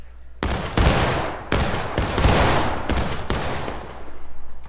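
Musket volleys from a battle line in the War of Rights video game at School House Ridge: several sharp, loud, close cracks in quick ragged succession, each rolling out into booming echoes, with no talk over them.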